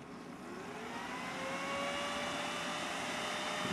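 Freshly cleaned CPU fan spinning up after a computer starts, a steady whir with a faint rising tone that grows slightly louder and then holds even, close and unaccompanied by speech.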